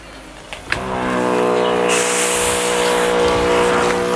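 A motorized pesticide sprayer, used on fruit trees, is switched on with a click, and its engine settles into a loud, steady, close-up drone.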